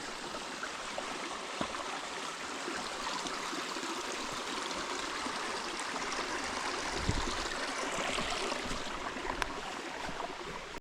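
A mountain stream rushes steadily over rocks at a hiking-trail water crossing near Lake Lure, North Carolina, a close, continuous broadband wash with no voices.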